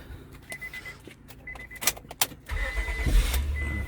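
A 2002 Honda Accord 3.0 V6 with a newly replaced starter cranks and fires up, with clicks and key jingles first, then the engine catching and settling into a loud, steady idle close by.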